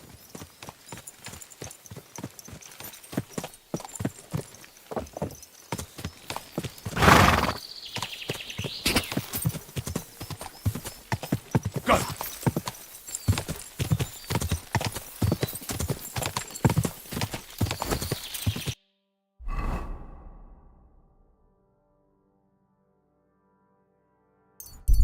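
Horse hooves clip-clop steadily at close range for most of the stretch in the medieval game Kingdom Come: Deliverance II, with a neigh partway through and a few metallic clangs, then the sound cuts to near silence.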